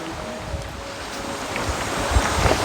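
Strong water rushes and churns steadily beside a large rock, a loud continuous roar of flow and surging waves with windy buffeting, no voices.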